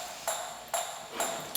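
A gated, EQ'd top layer of a kick drum with all low end removed: three to four thin, clicky high-pitched hits at an even pace, fairly faint with a soft hiss between them.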